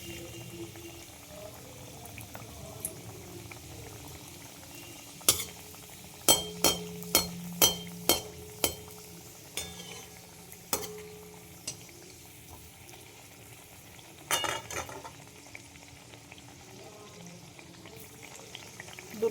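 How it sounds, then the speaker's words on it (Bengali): Snacks deep-frying a few pieces at a time in hot oil turned down low: a steady soft sizzle and bubble runs throughout, with a quick series of sharp metallic clinks in the middle and a few more later, no voices. "তেল গরম হয়ে গেছে, তেলটা কমানো রয়েছে, আমি এইগুলোর মধ্যে ছেড়ে দেবো। অল্প অল্প করে ভাজবো, একটা একটা করে।"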